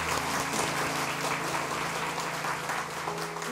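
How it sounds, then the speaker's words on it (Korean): Congregation applauding during a church service, a dense, steady wash of clapping filling the room, with a low sustained hum beneath it. "다시 한번 우리를 그렇게 사랑하신 하나님께 큰 박수 영광 돌리겠습니다."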